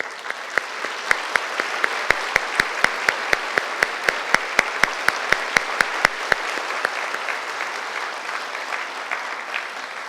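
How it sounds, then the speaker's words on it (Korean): A church congregation applauds in welcome during a Sunday service, steady sustained clapping, with a rhythmic unison beat of sharp claps running through the middle before the sound tapers off. "저희가 뉴송의 박수로 환영하도록 하겠습니다"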